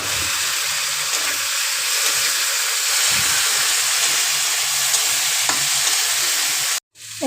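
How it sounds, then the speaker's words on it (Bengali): Water poured into frying spices in a pan sets off a loud, steady hiss and sizzle with light stirring scrapes, continuing unbroken before a brief cut near the end. "এবার মশলার বাটিটা ধুয়ে একটু জল দিয়ে দেবো।"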